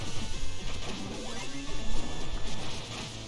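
A dense, continuous crashing and clattering from a smashing hazard in the video game Shovel Knight, loud and busy throughout with no pauses.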